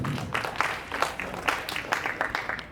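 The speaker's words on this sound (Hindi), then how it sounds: "जोरदार तालियों से स्वागत करें।" Applause from an audience at a college National Service Scheme farewell ceremony, welcoming a staff member to take an oath; steady, moderately loud clapping with brief bursts, fairly close.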